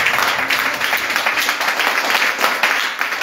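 A church congregation applauds steadily, a dense, loud wash of clapping that continues throughout without pause.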